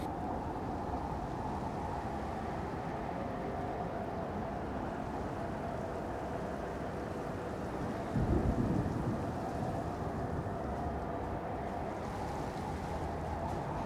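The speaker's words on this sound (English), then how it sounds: "And it's raining." Steady rain hisses throughout the video game Napoleon: Total War, with a low rumble of thunder rolling in briefly partway through, fairly quiet and distant.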